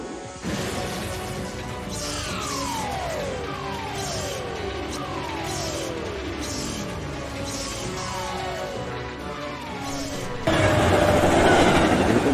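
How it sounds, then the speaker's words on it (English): Animated out-of-control moving train, a steady loud rolling roar with repeated rhythmic clacks and descending whooshing sweeps, swelling louder and brighter near the end. "We're on top of an out-of-control train."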